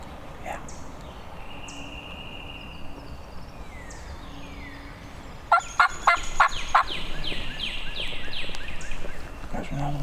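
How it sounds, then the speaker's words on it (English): A wild turkey gobbles out in the woods by water, one burst of rapid rattling gobbles cutting through, while people talk quietly and bird calls sound in the background. "out of nowhere, a turkey gobbles directly behind"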